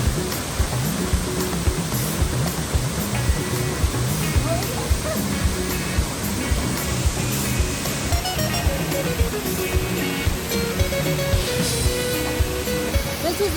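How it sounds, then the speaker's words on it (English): The Seven Sisters Waterfall roars as a steady, dense rush of falling water, loud and continuous throughout with no breaks. "This is the Seven Sisters Waterfall."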